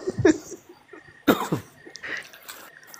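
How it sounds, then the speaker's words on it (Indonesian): Two or three dry, harsh coughs from a man in close range, sharp bursts separated by short pauses in an otherwise quiet room, ending with a faint murmured sound. "Aduh. Batuk."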